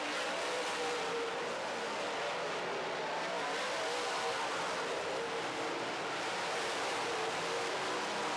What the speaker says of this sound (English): Blue flag with the yellow diagonal stripe coming out for Walt Morris and the 8 car